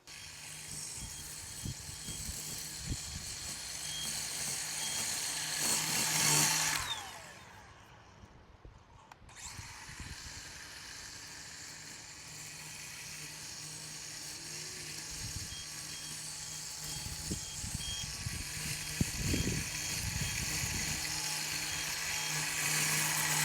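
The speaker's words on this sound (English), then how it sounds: "Then each spring, I'll use a string trimmer to recut saggy or sloppy edges." A DEWALT 20V MAX cordless string trimmer whirs steadily while edging a lawn, with a brief drop in the motor sound before the whine resumes at a constant level.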